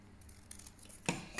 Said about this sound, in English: just cut them out.